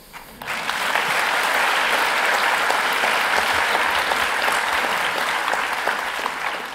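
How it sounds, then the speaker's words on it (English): Sustained applause from a conference audience at an opening plenary session, thanking the interpreters; a dense, steady wash of clapping that swells quickly and holds loud and even throughout, with no voices above it. "And I would also like to ask an applause for the interpreters"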